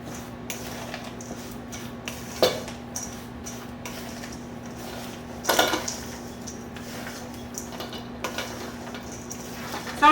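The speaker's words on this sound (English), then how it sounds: "I'm back with the final stirring of the oats into this container" Granola oats being stirred in a container give off scattered soft scrapes and clinks, with a few sharper knocks against the side, all over a steady low hum.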